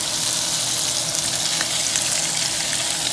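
Shrimp from a 61 to 70 count package frying in about three tablespoons of coconut oil, a steady dense sizzle with faint crackle running unbroken and fairly loud, no voices over it.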